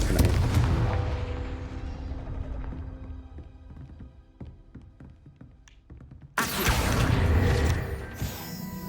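A Confringo curse in Hogwarts Legacy erupts in a loud fiery blast that decays into crackling debris and scattered clicks, then a second heavy burst of rumbling noise follows.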